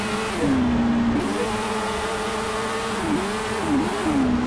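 F1 cars accelerating off the grid at a race start in the Monoposto racing game, a sustained engine whine rising and falling through gear changes, steady and fairly loud with no talk.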